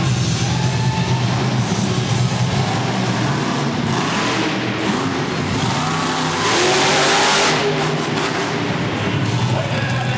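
Bigfoot monster truck engine revving loudly on a tight indoor track at a monster truck event, with a sustained roar that rises and swells near the end and continues throughout without pause.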